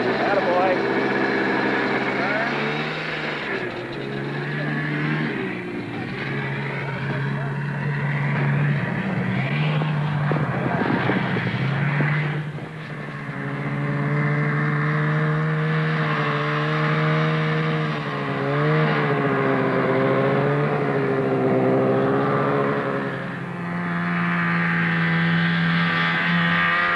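An engine drones and rises in pitch as throttle is given, a sustained hum that swells and shifts over a long stretch, with people talking over it.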